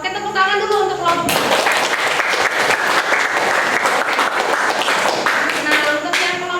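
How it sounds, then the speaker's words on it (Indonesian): A classroom of students claps for a group after a poster presentation on viruses. The applause is loud and dense and rises quickly after a teacher's voice, then holds steady with a few voices mixed in. "tepuk tangan dulu untuk kelompok"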